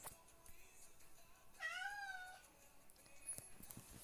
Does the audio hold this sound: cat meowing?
yes